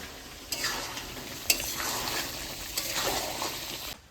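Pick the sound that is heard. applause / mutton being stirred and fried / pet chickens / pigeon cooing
mutton being stirred and fried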